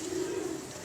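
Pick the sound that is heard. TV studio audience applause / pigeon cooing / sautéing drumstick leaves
pigeon cooing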